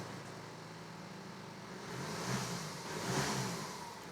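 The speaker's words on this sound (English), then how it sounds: "Start the engine. So this is a diesel engine." A diesel car engine runs with a steady broadband rumble and swells twice in revs, close and continuous, with no talk over it.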